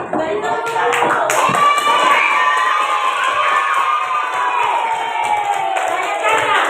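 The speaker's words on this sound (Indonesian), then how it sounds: "Beri tepuk tangan." A class of fifth-grade schoolchildren in an elementary school claps and shouts together, a loud, lively burst of clapping under children's excited voices and chanting that carries on throughout.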